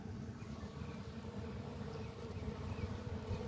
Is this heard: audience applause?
no